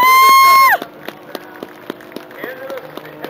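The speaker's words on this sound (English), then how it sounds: "A big round of applause for Jason Newbert." Sparse, scattered clapping from an air show crowd at Daytona Beach, heard after a brief loud tonal sweep, with faint crowd murmur between the claps.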